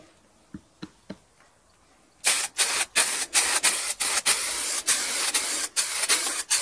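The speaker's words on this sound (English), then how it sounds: "I use the finest quality white primer from Tetrasil" White primer sprayed from an aerosol can onto car wheels of a Vauxhall Tigra: a few soft clicks, then a run of loud, close hissing bursts, each cut by a brief pause, continuing steadily to the end.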